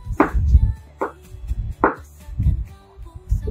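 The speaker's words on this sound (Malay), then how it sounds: "Okey, kita iris sikit bawang putih ni supaya senang kita blender kan." A knife slices garlic cloves on a chopping board, giving several sharp, distinct knocks spaced about a second apart with softer scraping and handling sounds between them, close and clear.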